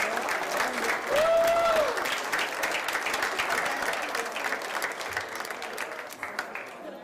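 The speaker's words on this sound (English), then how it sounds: "Let's give the Strings for Success another round of applause." Crowd applauds a string ensemble at a Black History Month observance, a steady wash of clapping with a brief whistle early on, fading slightly toward the end.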